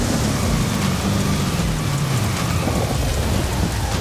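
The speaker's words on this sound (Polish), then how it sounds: "zaczął padać deszcz" Steady heavy rain and rolling thunder in the racing game Forza Horizon 5, a dense continuous downpour with a low rumble swelling and fading beneath it, loud and constant throughout.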